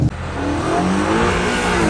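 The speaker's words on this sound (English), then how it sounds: "And that sound, it's so growly, this XM label." A 748 hp 2024 BMW XM Label with boost engaged growls loudly and steadily as it accelerates hard, a deep engine note climbing in pitch from close by with no talking.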